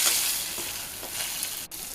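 Onions and green chillies frying in a pan for a paneer mushroom dish, a brief steady sizzle close by with a soft stirring scrape near the end.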